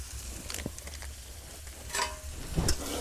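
Green peas with salt, sugar and turmeric stirred in a hot pan, a soft sizzle broken by a few scraping, clattering stirs, close and fairly quiet, no talking.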